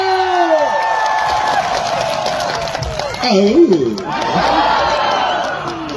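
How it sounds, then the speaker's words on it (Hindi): An outdoor crowd at a Karbi Anglong Day celebration cheering and clapping for actor Shakti Kapoor on stage, loud whoops and shouts over scattered applause, with a brief burst of voices in the middle. "एक बार शक्ति कपूर जी के लिए जोरदार तालियां हो जाए।"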